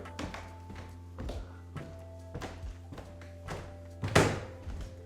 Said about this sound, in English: the stairs made a noise. A big clunky noise.